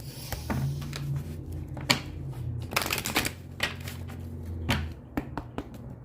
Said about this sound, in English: let me just pull some cards for you, pile number 2